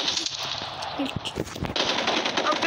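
Rapid automatic gunfire in a Call of Duty match, loud bursts of shots in quick succession with background game noise.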